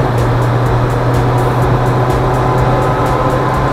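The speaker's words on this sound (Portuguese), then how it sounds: "Uma aceleradinha." Steady, loud engine drone from inside a vehicle on a highway loop road around Uberlândia, with a constant low hum and road rumble throughout, no clear rise in pitch but a continuous pulling sound.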